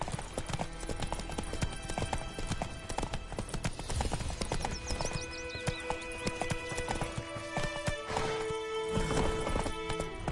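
A horse gallops in The Witcher 3: Wild Hunt, its rapid rhythmic hoofbeats continuous and close, with a brief whinny and soft game music beneath.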